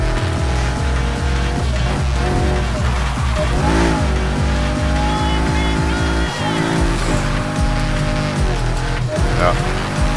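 A Chevrolet Camaro Z28 drifts in the Need for Speed Heat racing game, its engine revving hard in rhythmic pulses with long tire squeal, while a commentator talks over it.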